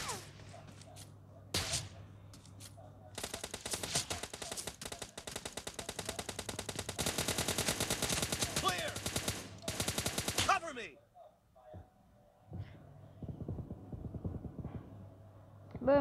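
Rapid, sustained bursts of automatic gunfire in a video game with sharp cracks, loud and continuous for several seconds before thinning to scattered shots.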